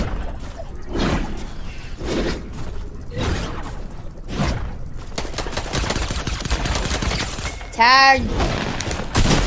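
Video game gunfire from an exotic pistol, bursts of sharp shots spread through a hectic match, mixed under excited talking and other game effects.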